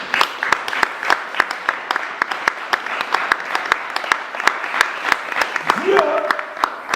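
A church congregation applauds to acclaim the Lord, a dense, steady wash of many hands clapping throughout, with sharp individual claps standing out and a brief voice near the end.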